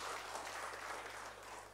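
Church congregation clapping together during a worship service, a continuous wash of applause from a crowd, fairly faint and distant with a steady low hum underneath.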